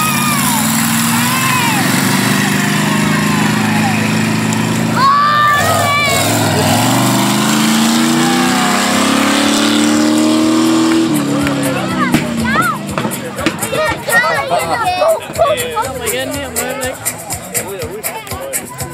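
Monster trucks roar at a 2014 monster truck show, their engines droning and revving loudly over crowd noise, with a rising burst of rough, stuttering engine sound in the second half as they return.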